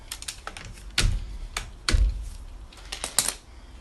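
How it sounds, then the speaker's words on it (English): Plastic cable ties zipped tight around car wheel trims on a Peugeot Partner, a run of quick ratcheting clicks close by with two louder pulls standing out. "Now pop some cable ties around there just to hold these on"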